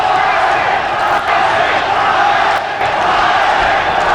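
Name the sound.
crowd chanting for boxer Jorge Paez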